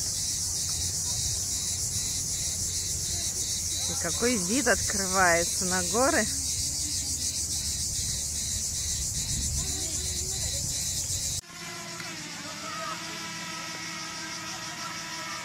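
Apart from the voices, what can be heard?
loud cicadas chirping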